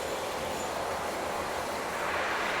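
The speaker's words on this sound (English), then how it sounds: "And the freight train is on its way" A model freight train rolls along a layout, giving a steady, continuous rumble of wheels on track with no break and no speech over it.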